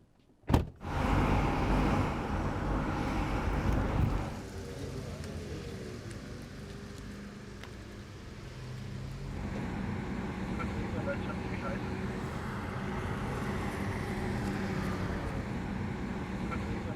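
Interior of an Audi electric car while driving: a steady low road and motor hum fills the cabin after a door-like thump, with a quieter stretch midway and faint talk over it.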